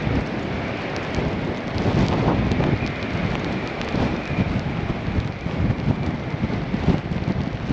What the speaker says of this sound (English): we've still got a yellow weather warning in place for high wind up until this evening